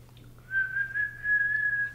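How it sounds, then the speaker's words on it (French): A single person whistles a steady, sustained tone, held for over a second, during a neurological exam in a quiet room with a faint low hum beneath. "on peut demander à la personne de siffler."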